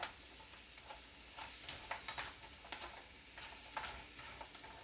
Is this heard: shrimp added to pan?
yes